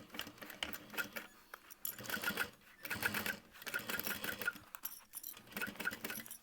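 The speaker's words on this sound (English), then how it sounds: "So we're just going to sew this at a 3/8 inch seam allowance." Sewing machine stitching a 3/8 inch seam on a crossbody bag, a close, quiet rapid mechanical chatter running in bursts with short pauses between runs of stitching.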